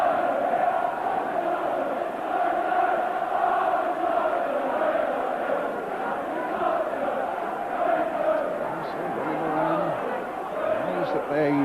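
A large football crowd at snowy Anfield on Merseyside during a 1985 FA Cup match between Liverpool and Tottenham Hotspur, a steady, massed roar and murmur from the stands with a commentator talking over it.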